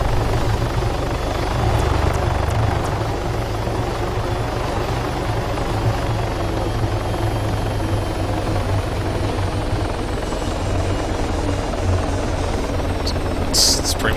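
A helicopter in the military game Arma 3 lands slowly, its rotor and engine throbbing loudly and continuously with a deep, steady buzz throughout, plus a few brief clicks and a sharp high blip near the end.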